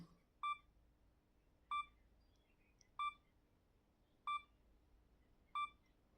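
A Sony camera's self-timer gives five short, evenly spaced electronic beeps about one and a quarter seconds apart, faint and alone against quiet room hiss, before it takes three shots.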